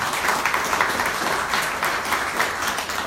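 An audience at a national meeting in Mexico City applauds, a dense, continuous crackle of many hands clapping at even loudness throughout.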